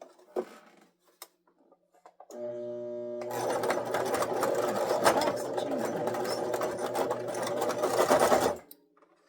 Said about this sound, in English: all I'm going to do is just stitch a straight line down